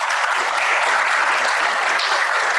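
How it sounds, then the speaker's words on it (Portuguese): Students clap for a diplomat's lecture in a dense, even burst of applause, steady and close throughout with no voices over it. "gostaria de pedir aos alunos uma salva de palmas"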